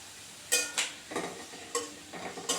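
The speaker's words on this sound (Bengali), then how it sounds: "এবার একটু ভালো করে মশলাটাকে কষিয়ে নিব।" Spice paste with ginger paste, tomato paste and ground coriander being stirred in a pan for chicken noodles, with a quiet faint sizzle and several separate, close scraping strokes of a utensil.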